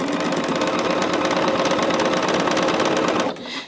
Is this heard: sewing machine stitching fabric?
yes